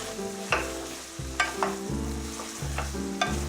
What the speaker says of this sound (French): Je vais ajouter mes morceaux aux oignons qui sont maintenant bien dorés. Je mélange.